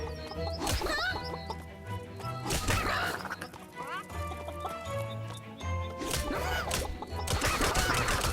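Busy Skylanders Imaginators game soundscape with repeated chicken clucks and squawks, a horse-like whinny and clip-clop mixed in, over steady background music and effects.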